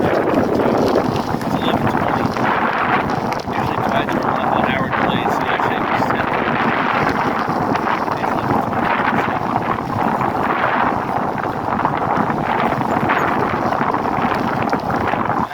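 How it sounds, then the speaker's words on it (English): Strong wind gusting across the microphone on a beach at Fort Myers Beach, Florida, blowing west to east. It makes a continuous loud roar and buffeting without letting up, with faint surf and riding sounds underneath. "kind of stronger wind. This time it's coming from west to east."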